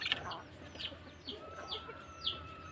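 A pair of pure labuyo junglefowl, a male and a female, give a series of short, close clucks and chirps, about five separate calls spaced out over a quiet background.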